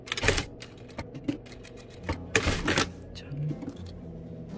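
Sewing machine running in short bursts while stitching a flap pocket, with brief mechanical whirring and clicking interrupted by pauses and a short spoken word.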